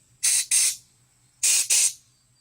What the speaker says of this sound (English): I'm going to go ahead and spray some more carburetor cleaner on the inside throttle body here